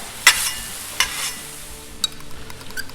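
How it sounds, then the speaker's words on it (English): Ground beef sizzling on a Blackstone griddle, a steady hiss with a few sharp spatula scrapes and taps on the flat top, close up with no voices. "get that sizzle going"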